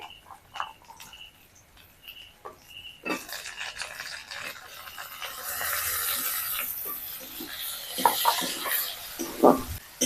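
Ginger, garlic, green chili and tomato fry in a pan for egg fried rice made from leftover rice, a steady sizzle swelling louder partway through, with a few clinks and stirring scrapes near the end.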